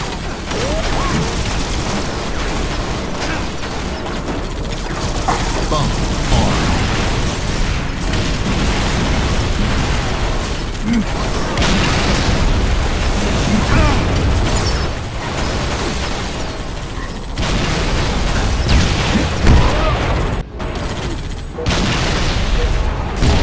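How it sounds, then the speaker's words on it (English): A bomb detonation in Halo: The Master Chief Collection, set on the Backstreets custom game map. It comes as a loud, booming blast inside dense, continuous game noise with rumbling low end that runs through the whole stretch. "Bomb detonated."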